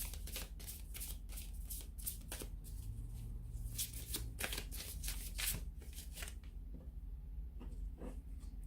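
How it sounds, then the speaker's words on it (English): Close, rapid riffling and flicking of oracle cards being shuffled, a steady run of crisp papery snaps with brief pauses. "I'm going to give the Angel Answers card a shuffle here"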